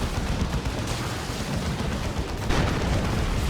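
A Warrior unit exploding in the strategy game Dawn of War 2, heard as a continuous rumbling, crackling din of blasts and battle noise with a louder surge near the end.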